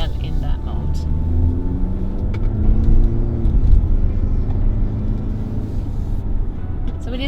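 Engine note of a 2023 Mazda CX-60 plug-in hybrid SUV driven in sport mode, a steady low rumbling drone heard from inside the cabin with a voice talking over it.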